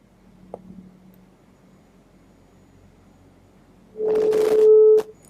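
A steady telephone line tone sounds for about a second on an unconnected call, loud and alone after near silence, with only faint background hum before it.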